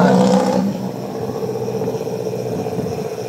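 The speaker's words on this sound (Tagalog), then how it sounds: "Maingay lang yung jeep." A noisy jeepney engine rumbles along a dark road, loudest at the start and then settling into a steady mid-pitched drone that fills the background.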